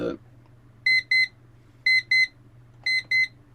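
An hourly timer alarm beeps in three sets of double electronic chirps, sharp, evenly spaced and close, over a quiet background hum.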